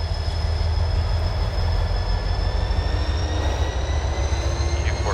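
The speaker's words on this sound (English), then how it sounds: "go up here and listen to the SD40 work a little bit" An EMD SD40 diesel locomotive in the Run 8 train simulator labors under load with a steady, loud, droning engine roar and rumbling low end, heard continuously and alone during yard switching work.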